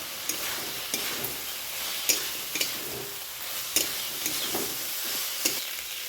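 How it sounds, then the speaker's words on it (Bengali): Spice masala sautés steadily in a pan, its soft continuous sizzle broken by regular scraping knocks of a stirring spoon about every half second. "এবার আমি মশলাটাকে ভালো করে কষিয়ে নিচ্ছি বন্ধুরা"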